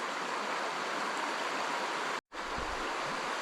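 River water flowing steadily in an outdoor woodland setting, a continuous broadband rush close by with a brief dropout partway through.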